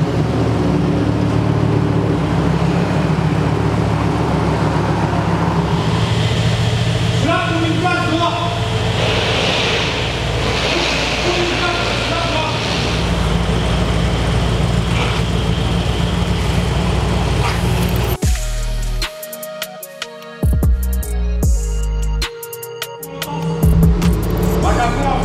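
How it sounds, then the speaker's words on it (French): City-centre street traffic in Cannes makes a continuous rumble of passing cars and engines that fills the whole stretch, with a voice talking over it and a harsher, choppier noise burst near the end. "il y a beaucoup de circulation"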